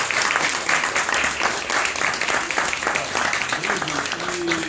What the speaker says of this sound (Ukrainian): Давайте їх аплодуємо.